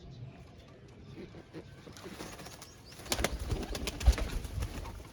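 Flying pigeons coo softly while wings flap, growing louder and busier in the second half with a few sharp flutters and knocks.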